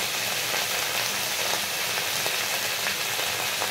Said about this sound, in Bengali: আর এখানে তেলে বসিয়ে দিয়েছি নিম পাতা ভাজা করতে।